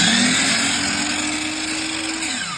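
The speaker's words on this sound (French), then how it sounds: "Après ça, je scie." A power saw blade cuts through a wooden board with a loud, steady, close whine and rasp that holds for several seconds and eases slightly at the end, with no talking.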